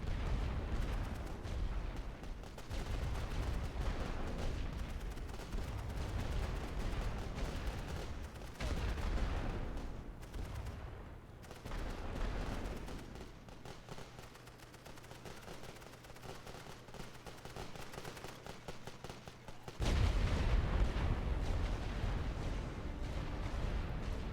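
Artillery barrage from The Great War: Western Front, with booming cannon fire and crackling gunfire rolling across a battlefield. Heavy low rumbles dominate throughout, with a brief lull midway before a renewed loud burst of shelling.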